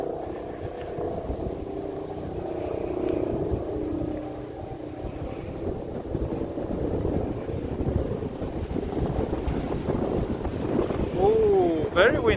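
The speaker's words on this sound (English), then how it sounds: "Oh, very windy, very windy." Strong wind blows into the microphone on a Tokyo street, a constant rumbling gust that lasts throughout and mixes with faint city background sounds.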